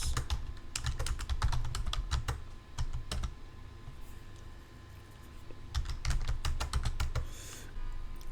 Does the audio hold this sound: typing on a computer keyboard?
yes